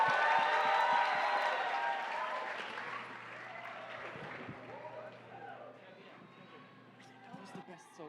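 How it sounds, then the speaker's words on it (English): Audience applause fills a resident benefit concert at International House in Berkeley, loud at first and gradually thinning, with some cheering and voices mixed in. "A round of applause, everybody."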